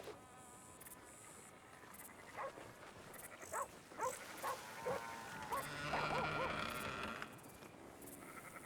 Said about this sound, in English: That's a dog in there.